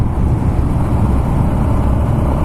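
A Suzuki DR-Z motorcycle being ridden, a loud, steady, rumbling engine drone with continuous road and wind noise and no voices.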